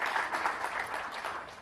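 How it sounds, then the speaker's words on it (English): An audience at a Hope on the Horizon speech event gives Maria Blanco a round of applause, a soft, steady patter of many hands clapping at a moderate distance, alone without talk. "Let's give Maria Blanco another round of applause."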